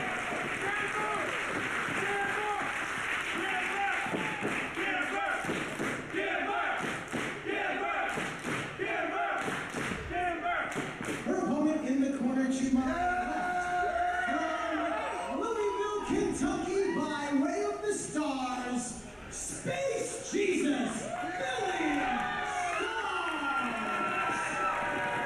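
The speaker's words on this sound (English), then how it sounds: "Crowd's already into this." A Beyond Wrestling crowd at a women's match cheers and roars steadily beneath continuous commentary, with occasional thuds from the ring.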